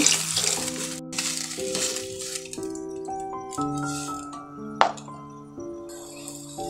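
Shrimp soup with tomato sauce and cornflour being stirred in a pot, a soft continuous sizzle with light scraping and a clink near the end, playing under steady background music.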